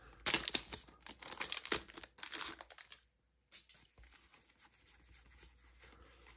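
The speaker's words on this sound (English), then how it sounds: "I'm gonna have to take the scissors to the top of some of these." Scissors snipping and crinkling through the foil tops of Alpha Clash trading card booster packs, close and rustly for a few seconds, then a pause followed by quieter handling of the wrappers.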